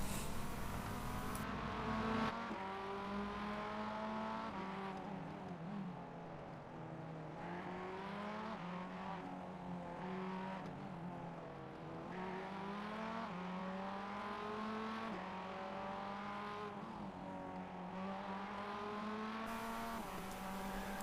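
Race cars in the iRacing sim game drone steadily with rising and falling engine pitch as they run close together, a continuous mechanical whine with no talk.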